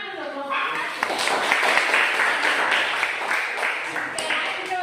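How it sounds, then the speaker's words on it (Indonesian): Students in a classroom clap for group 1, a dense wash of many hands sustained for several seconds, with voices chattering over it. "lanjut tepuk tangan dulu kelompok 1."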